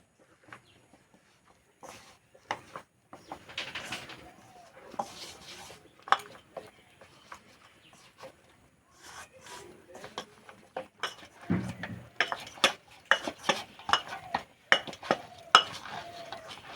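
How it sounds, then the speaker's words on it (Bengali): Semolina dough with a little flour worked by hand in a kitchen: irregular soft squishing and pressing sounds with scattered light taps and clinks, moderately close, with background chicken clucks now and then. "এবার সুজিতে দেবো অল্প একটু ময়দা ভালো করে একটু মেখে নেবো"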